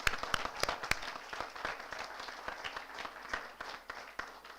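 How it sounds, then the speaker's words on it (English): Applause at a moot court competition's valedictory ceremony: a modest indoor group claps in scattered, uneven bursts, fairly faint, with some individual sharp claps standing out. "You deserve a huge round of applause."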